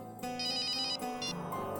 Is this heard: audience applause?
no